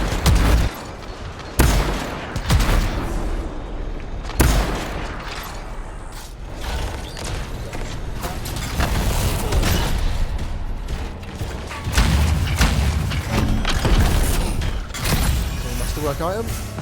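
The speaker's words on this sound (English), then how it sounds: "so we'll crack out the big gun again." Big gun fire in the video game Anthem, repeated heavy blasts and mechanical clanking and ratcheting, loud and irregular, with someone talking over much of it.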